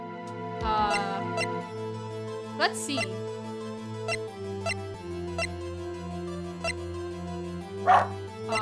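A pet dog yips and barks in short, sharp bursts, nearby, over a steady musical backdrop, with a person speaking briefly.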